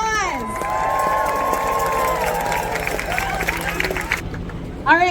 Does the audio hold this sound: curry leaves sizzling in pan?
no